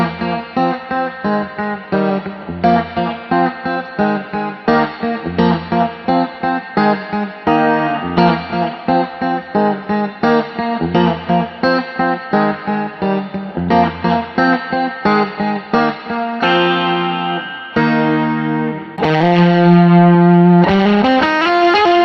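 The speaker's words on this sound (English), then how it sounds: "So I'll turn off chorus and delay when you go to fuzz face." Electric guitar played through a Fuzz Face pedal into a guitar legend's amps, with chorus and delay switched off, sounding as rhythmic, distorted chord stabs and riffs that end in a sustained ringing chord, loud and without talk.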